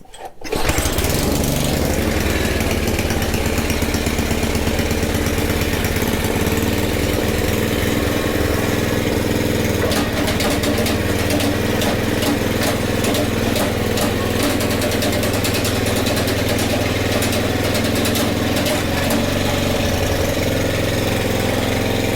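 A Troy-Bilt rototiller engine runs steadily at half throttle, a loud, close, continuous small-engine drone with a constant chugging hum throughout after a brief start.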